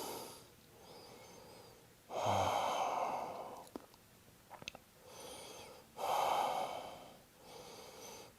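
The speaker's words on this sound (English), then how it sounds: "Big inhale, slow exhale." Slow, deep yoga breathing comes through close and clear: two long, airy inhale-and-exhale cycles, each swelling loudly and then fading, separated by quieter pauses with a few faint rustles.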